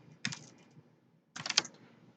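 Two short bursts of quick computer keyboard typing sit close to the microphone, separated by a silent pause of about a second.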